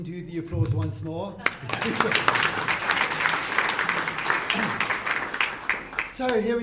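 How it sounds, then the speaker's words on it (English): Audience applause at a book launch for a business climate index, a dense burst of clapping filling the room for several seconds, with a voice talking over it at the start and end. "Okay, we can do the applause once more."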